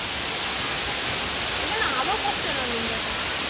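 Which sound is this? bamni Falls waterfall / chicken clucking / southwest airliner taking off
bamni Falls waterfall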